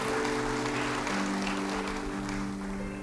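A church congregation claps together during a sermon, a steady, moderately loud wash of applause with a low hum from the sound system running underneath.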